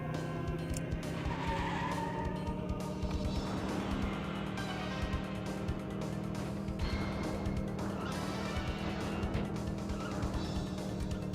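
Tires squealing and skidding as a car oversteers in a racing video game, a continuous screech over a steady engine hum that lasts throughout, with no talking.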